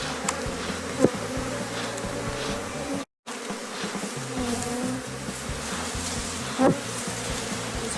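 Honeybees being shaken off hive frames make a dense, continuous buzzing swarm close by, with a few sharp knocks and a brief dropout partway through.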